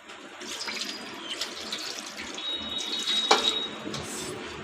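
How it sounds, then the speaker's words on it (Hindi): Water pours and splashes into a cooking pot at a home stove while karela is being made, a steady near rush with a sharper splash partway through. "ये देखिए सब पानी इसमें डाल दूँगी"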